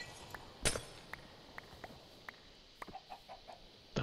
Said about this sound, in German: Und ein Compressed Chicken.